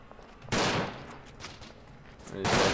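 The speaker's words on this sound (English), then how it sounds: "These guns are very loud." Loud World War I guns fire in the game Verdun, with two heavy blasts a couple of seconds apart.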